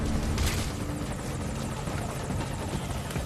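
Helicopter rotor thumping and engine roar from the Metal Gear Solid V: Ground Zeroes game, a loud, steady chopping wash that holds for the whole stretch, with no voices.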